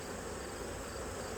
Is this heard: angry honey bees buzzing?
yes